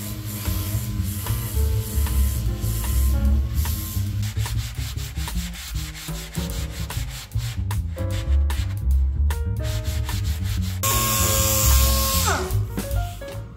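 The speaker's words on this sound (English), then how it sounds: "We use, let's see here, 80 grit paper to start with, and then 220 to fine it out." Coarse 80-grit sandpaper scrubs across a plywood front piece for a club kart, a loud, continuous rasping that shifts slightly in tone with the strokes and runs the whole time.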